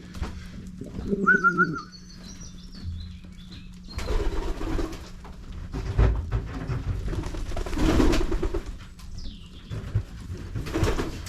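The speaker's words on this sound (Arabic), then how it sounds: "أصوات العصافير، الطبيعة سبحان الله" Bright bird chirps ring out near the start, followed by soft cooing of Damascene pigeons and rustling, with scattered calls continuing under low background noise in Berlin.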